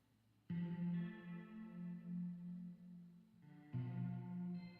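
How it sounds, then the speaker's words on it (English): A sustained synth chord with a lush plate reverb tail from a BABY AUDIO plugin swells, fades slightly, then a second chord enters, bright and washy with no voices. "So what's the basic plate reverb sound like?"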